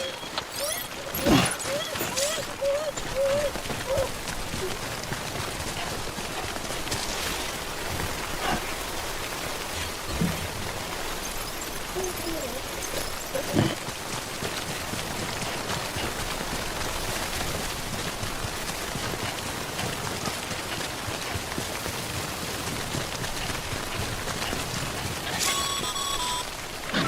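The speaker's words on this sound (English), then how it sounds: "Don't stay out in the rain any longer than you have to" Steady rain in Death Stranding, a dense continuous patter of drops falling on surfaces throughout, with occasional faint clicks and thuds mixed in.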